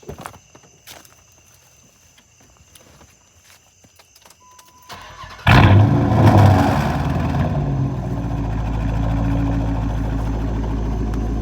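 A Chrysler 300 with a Hemi engine starts after some quiet clicks and shuffling. The starter cranks briefly, then the engine catches with a loud roar that settles into a steady, deep idle.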